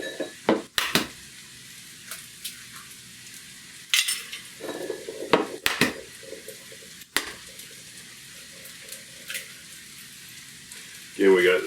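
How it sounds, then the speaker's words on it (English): Four free-range eggs being whisked in a bowl make quick clinking and scraping strokes in uneven bursts, with some louder knocks and a softer sizzle in the background. "Give those a nice whisking."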